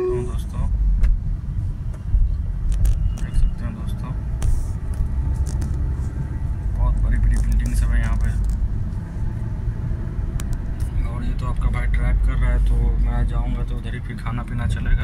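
A car drives through city traffic, with a continuous low engine and road rumble inside the cabin and occasional clicks and knocks along the way.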